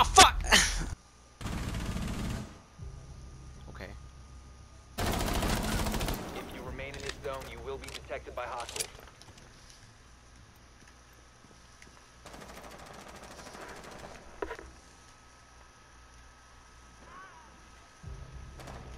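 SMG gunfire in a video game, with several loud automatic bursts, each a second or two long, separated by quieter stretches holding brief shots and game noise.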